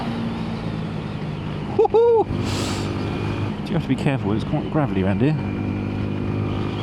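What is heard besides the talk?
Yamaha MT-125 motorcycle being ridden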